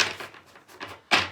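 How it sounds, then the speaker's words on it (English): A new deck of oracle cards being shuffled by hand, with a few brisk papery riffles and slaps, the last one loudest, close up and with no talking. "that is the noise of me shuffling"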